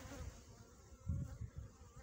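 Honeybees buzz steadily around hives during a sunny February hive split, a continuous low drone with louder swells from bees passing close, no voices.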